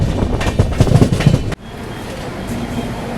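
A New Delhi–Patna special train rolls into Govindpuri station with a loud, dense rumble and rhythmic wheel clatter close by, then the noise drops sharply to a quieter steady hum halfway through.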